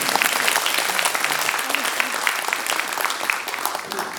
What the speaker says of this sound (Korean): 박수 한번 치고 해야 되는 거 아닙니까?